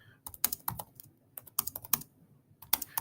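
Fingers type on a computer keyboard in bursts of quick, crisp key clicks with short pauses between them, close and clear, with no talking.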